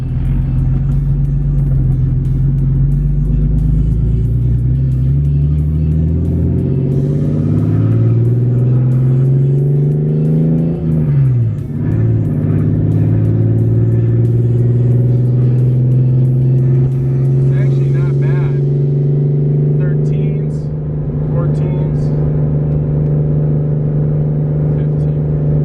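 A car on a test drive cruises at around 3,000 RPM while air fuel ratios are monitored, its engine droning steadily and loud throughout, pitch rising and falling with gear changes and throttle.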